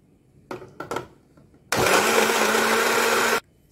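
An electric blender whirs loudly and steadily for nearly two seconds, chopping pandan leaves with water, after a few short clicks and bumps as it is loaded and switched on.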